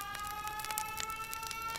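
Emergency sirens wail without pause from a road traffic jam leading out of a city, steady tonal sweeps filling the short stretch with no talking.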